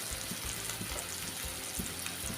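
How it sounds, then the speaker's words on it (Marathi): Onion and tomato sauté with salt in a pan, a dense steady sizzle with soft stirring underneath, close and continuous. "आणि आपण परतून घेऊया जेणेकरून कांदा आणि टॅमॅटो मीठ घातल्यामुळे काय होतं लगेच कोमजतं"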